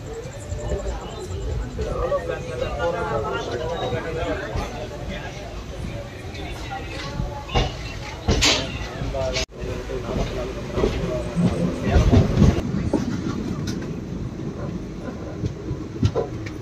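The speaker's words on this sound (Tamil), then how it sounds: "மோகனூர் ஸ்டேஷன்லேருந்து ட்ரெயின் கரெக்டாக பார்த்தீங்கன்னா டிபார்ட் ஆகிடுச்சு" The Palakkad-Chennai Superfast Express pulls away from Mohanur station, its rumble and wheel clatter running steadily under a voice throughout.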